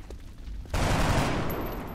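Gunfire in XCOM Enemy Within, a sudden loud burst of shots that cuts in after a quieter rumble and sustains as a dense, close crackling volley.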